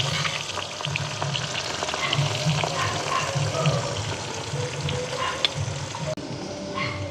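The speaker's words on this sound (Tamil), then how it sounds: "உப்பு பிரட்டி வச்சுருக்கிற வெங்காயத்தை நாங்கள் வந்து பொரித்து எடுத்துக்கொள்வோம்" Steady sizzling of salted onions frying in hot oil, with occasional stirring clinks and scrapes, continuous and close.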